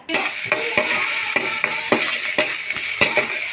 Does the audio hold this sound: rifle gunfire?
no